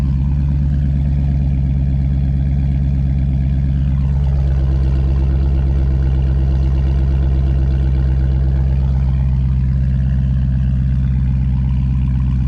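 A Chrysler 300 SRT8 idles with a steady, deep exhaust burble that sits close and loud and stays even throughout, with no talking over it.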